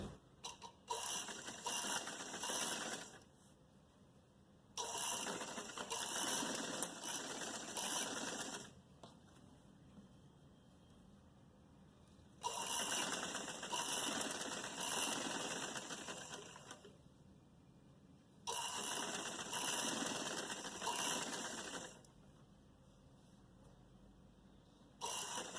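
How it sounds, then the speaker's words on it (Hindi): Sewing machine stitching over stiff buckram interfacing for a narrow shalwar poncha, running in four long steady bursts of several seconds each with short quiet pauses between, close and clear with no talk. "बकरम के ऊपर सिलाई करनी है"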